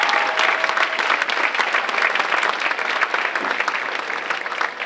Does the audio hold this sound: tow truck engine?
no